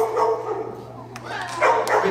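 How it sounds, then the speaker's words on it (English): An excited puppy at an elementary school program gives short yips and barks nearby, mixed with whimpering, while a person talks. "since she's still a puppy, when she gets excited, she likes to bark"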